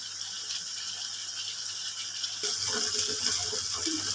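Hot water is poured onto browned mutton in a pot for a kachi pather mangsho, a low steady hiss suddenly giving way to a louder gushing splash partway through.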